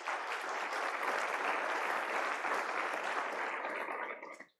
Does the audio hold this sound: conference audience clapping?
yes